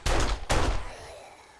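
Two sharp gunshot bursts from an SMG loaded with armor-piercing rounds in 7 Days to Die, close and loud, each cracking hard and then ringing out in a fading tail.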